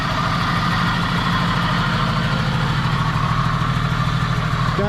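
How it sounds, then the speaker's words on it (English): A 1978 Jeep CJ-5 engine idles steadily with an exhaust leak, giving a loud, close, even rumble with a rapid low pulsing throb that runs unbroken throughout, with no talk. "You can hear the exhaust leak."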